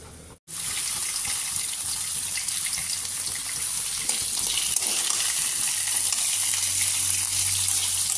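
Fish fries in a pan with a steady, loud, continuous sizzle that carries on unbroken after a brief pause at the start.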